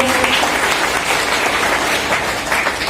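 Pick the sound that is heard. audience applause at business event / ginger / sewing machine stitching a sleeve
audience applause at business event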